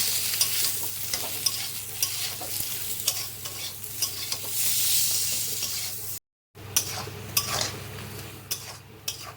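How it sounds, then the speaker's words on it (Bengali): Flat beans being stirred in a hot pan with chili powder, sugar and salt, close scraping and clinking of a utensil over a continuous sizzle, with a brief pause near the end. "দিয়ে একটু ভালো করে নেড়ে নেবো"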